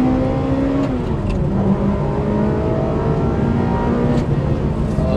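A high-revving Ferrari 360 Modena V8 with a manual gated gearbox pulls hard and steady past 8,000 rpm, its tone climbing then dropping briefly at a gear change before rising again.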